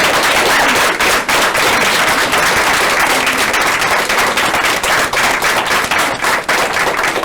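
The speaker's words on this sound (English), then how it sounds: "round of applause" An audience at an annual general meeting breaks into a sustained, enthusiastic round of applause, dense loud clapping that continues steadily throughout without talk.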